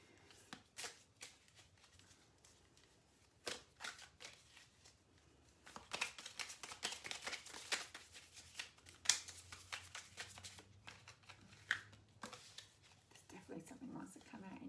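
A deck of playing cards is shuffled by hand in quick riffling bursts, with crisp papery snaps and flutters coming in close, irregular clusters against a quiet room.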